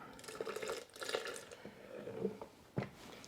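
Soaking water poured into a bowl of homemade Mexican salsa, a soft wet splashing and trickling with a few small drips, close and fairly quiet, no talking.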